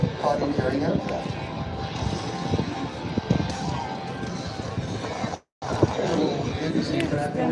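A C-17 cargo aircraft at the Beale AFB airshow, its engines producing a steady broad roar beneath a public-address announcer talking continuously, with a brief cut near the end.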